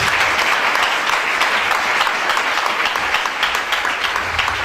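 A church congregation claps loudly and steadily, a dense, sustained roar of many hands close by with no pauses.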